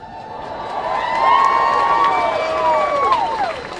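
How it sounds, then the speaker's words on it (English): Large protest crowd in downtown Austin shouting and cheering loudly and continuously, with rising whoops and voices across the whole stretch; distinct rhythmic chanting and clapping are not clearly separable. "You can hear how loud that chant was and how loud the claps are"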